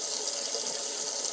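Water runs steadily from a filtered sink tap, a close, constant hiss of flow with no talking.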